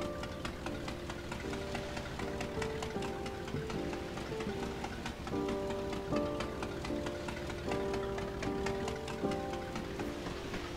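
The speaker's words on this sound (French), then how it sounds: "La pluie arrive parce que tout simplement, petit moment, petit souvenir un peu plus triste dans sa vie" Steady rain in the game Old Man's Journey, a soft continuous patter of drops under a gentle melodic music bed, even and moderately quiet throughout with no voices.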